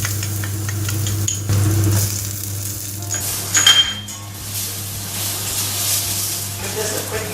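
Garlic and onion sizzle in hot olive oil in a pan, a steady frying hiss with a clink of a utensil stirring.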